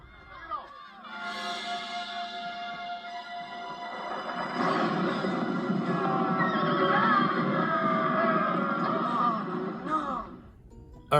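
Horses neigh and whinny in long, wavering cries that build and overlap for several seconds over a busy background of crowd noise, loud and close, then cut off sharply.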